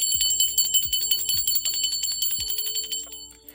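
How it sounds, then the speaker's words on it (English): A bell rung to call spirit guides, guardian angels and ancestors gives four or five bright, ringing strikes in quick succession, each overlapping the last as the metallic tones shimmer and decay. "I'm going to ring the bell for my spirit guides, guardian angels, and ancestors."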